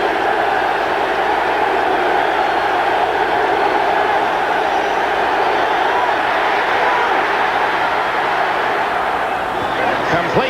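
A large home crowd roars steadily throughout a 1989 NFL game between the Raiders and Broncos in a stadium, a continuous loud wash of noise with talk mixed in.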